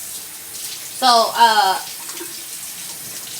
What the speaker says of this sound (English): So I'm going to go ahead and put some water on my hand.